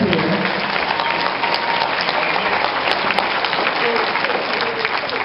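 A crowd at an Anime Expo comedy show applauds a comedian, loud, continuous clapping with cheering mixed in, while voices talk over it throughout.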